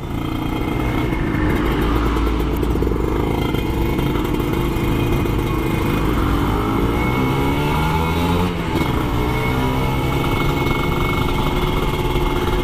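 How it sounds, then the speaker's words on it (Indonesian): A modified 2006 Kawasaki Ninja ZX-150RR two-stroke motorcycle drones continuously while riding in traffic, a buzzy, rattly exhaust note holding steady with slight shifts in pitch. "Kita riding santai aja sambil nikmatin motor yang suaranya itu kemerincing ya."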